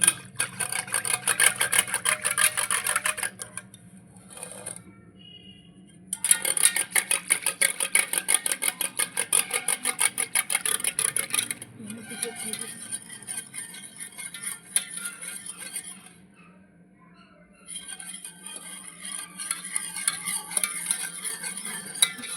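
Buttermilk being churned by hand in a vessel without a churning stick, giving a loud, rapid, rhythmic sloshing and stirring clatter in long bursts, broken by a few short pauses.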